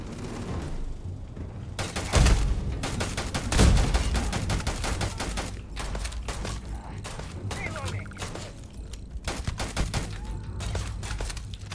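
Video game gunfire aimed at the player: rapid bursts of automatic shots and heavier booms crackling over several seconds, dense and loud, with a voice talking in places.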